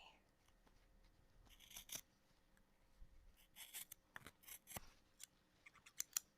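Several crisp scissor snips cutting medical cast material, close and quiet, in uneven bursts with short pauses between cuts, alone without talk.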